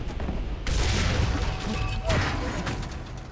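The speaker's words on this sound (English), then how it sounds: "you can hear me shoot there, but my shot doesn't go anywhere" A tank gun fires in the War Thunder video game, a sharp loud blast followed by a rumbling, rolling tail, with a second crack about a second and a half later.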